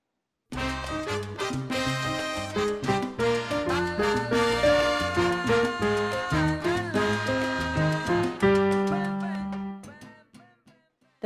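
Piano plays a four-note salsa montuno pattern along with a salsa song, a brisk, steady run of repeated chord figures over band accompaniment that rings out and fades at the end.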